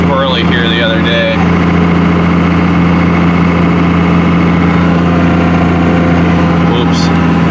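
A Cummins diesel pickup truck cruises at about 55 mph and 1800 RPM, a loud, steady low engine drone with road rumble heard from inside the cab, with a voice talking briefly at the start.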